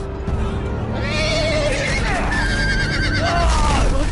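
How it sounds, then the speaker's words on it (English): Horses whinny repeatedly in a busy, noisy video game scene on PS4, with galloping and chaotic background clatter throughout. "We're about to get round over by horses."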